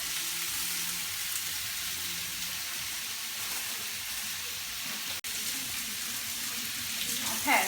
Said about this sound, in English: We're going to let this saute and cook up